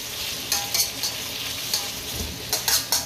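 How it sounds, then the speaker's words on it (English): Ginger sizzles in hot oil in a pan while being stirred, a steady close frying hiss broken by short clinks and scrapes of a utensil against the pan. "We're gonna be frying it together"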